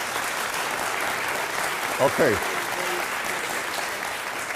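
Applause from a lecture-hall audience fills the whole stretch as a steady, dense patter of many hands, with a brief spoken word from one person near the middle.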